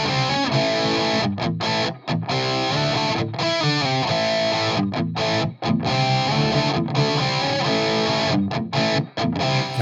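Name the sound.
distorted guitar cab with reverb plugin muted and unmuted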